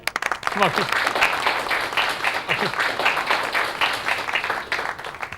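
Applause from a coaching-class audience, a dense steady wash of many hands clapping together, fairly loud and sustained, with voices calling out over it.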